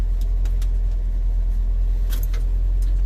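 A little truck's engine idles steadily after starting, a constant low rumble held close and loud throughout, with a few faint clicks and rattles on top and no voices.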